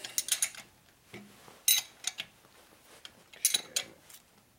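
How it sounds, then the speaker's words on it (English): A wrench tightening a bolt on a 1967 Harley-Davidson 74ci shovelhead FLH, sparse metallic clicks and ratcheting ticks in short bursts with quiet gaps, faint and close, with no speech. "So I'm going to tighten this up now because I know it's done."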